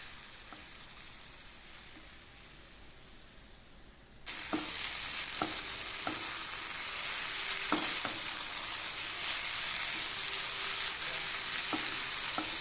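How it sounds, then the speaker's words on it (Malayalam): Sliced onions sizzle in a hot pan with steady frying hiss, while a spoon stirs them with a few distinct scraping knocks against the pan; the sizzle grows louder partway through. "സവാള ചെറുതായി ഒന്ന് വാടി വരുന്നത് വരെ നമുക്ക് നന്നായിട്ടൊന്ന് ഇളക്കി കൊടുക്കാം"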